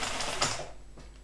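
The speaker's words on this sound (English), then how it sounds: "as you're sewing the flat area of your fabric" A sewing machine stitches along the flat part of a fabric piece near a bulky seam, giving a brief, soft mechanical whirr that fades after about half a second.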